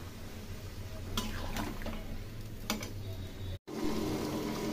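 A pumpkin, potato and prawn curry is stirred and sautéed in a pan, giving faint scraping strokes and a soft, steady sizzle, with a brief dropout near the end.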